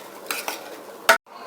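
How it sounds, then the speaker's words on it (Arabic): Rice stirred in a pan with ghee and oil, a spoon scraping and clattering against the metal in a few brief strokes, with one louder scrape near the end and only a faint sizzle beneath. "هنشوح الرز، لازم يتشوح كده تشويحه حلوه كده لحد ما يشرب كله من السمنه والزيت"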